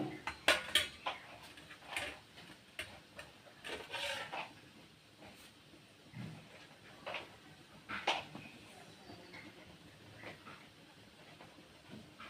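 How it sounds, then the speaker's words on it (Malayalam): A spatula stirs an ivy gourd leaf stir-fry in a pan, giving close metallic scrapes and clinks in uneven bursts over a low steady sizzle and hiss, with no talking. "ഇടയ്ക്കിടയ്ക്ക് നമുക്കൊന്ന് ഇളക്കി കൊടുക്കണം"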